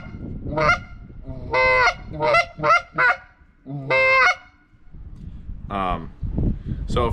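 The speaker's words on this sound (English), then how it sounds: "It's some kind of field proven goose call. It's a short reed, and I just wanted to show you what it sounds like." A short-reed polycarbonate goose call is blown in a series of loud honks and clucks. The bursts are sharp, uneven and close up, and a quieter low rumble and rustle fill the gaps.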